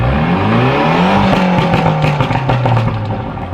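An Audi TT with a big turbo and a flame tune revs loudly up close. The engine roar rises and falls, broken by a rapid burst of sharp exhaust pops and crackles near the middle.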